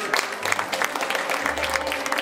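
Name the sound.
audience applauding the brides at a wedding dress fashion show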